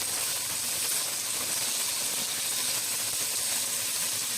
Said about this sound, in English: this is getting a burn on it. We've got that skillet going.